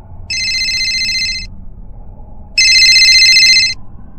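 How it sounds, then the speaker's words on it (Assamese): A telephone bell rings in two distinct bursts, the second louder, with a short quiet gap between them and no talk. "অলপ সময়ৰ পিছত ফোনটো বাজি উঠিলে।"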